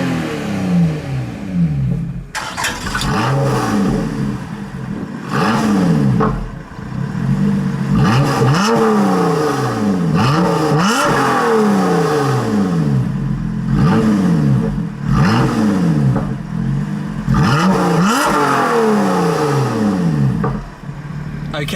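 A Lotus Exige S Roadster's V6, in Sport mode with the exhaust valves open, is revved repeatedly at a standstill, the engine note swelling and falling in loud, close bursts.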